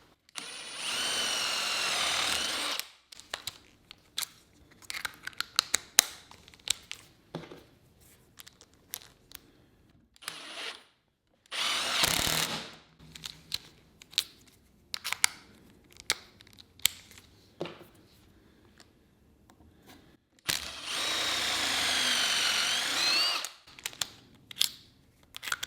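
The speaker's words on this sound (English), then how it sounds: "We can go ahead and drill a hole and drive a screw." A drill driver bores a hole, then drives a screw, whirring in several separate bursts that differ in length, with quiet pauses and small handling clicks in between.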